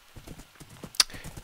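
A horse ridden in Minecraft gives short, light clip-clop hoofbeats in quick rhythmic bursts, with a brief sharp click near the end, close and fairly quiet.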